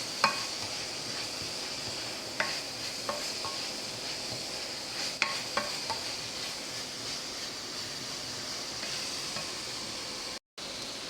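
Oil heating in a pan for chicken sisig gives a steady, close sizzle with faint crackles and a few sharp pops, no voices.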